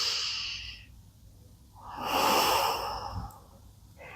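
During a yoga session a person takes slow, audible breaths close by: a long exhale, a pause, then a deeper inhale and exhale, with no talking.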